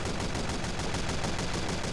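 Heavy's minigun in Team Fortress 2 Mann vs Machine roars in one continuous, dense burst of rapid-fire shots, loud and close throughout, with no talk over it.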